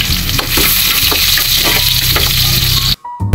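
Garlic frying in a pan for pork ribs caldereta, a loud, close, continuous crackling sizzle with stirring, cutting out abruptly near the end before resuming briefly.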